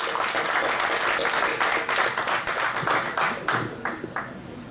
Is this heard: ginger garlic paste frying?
no